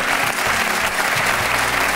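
An audience claps steadily throughout, a dense and even wash of applause with no voices standing out.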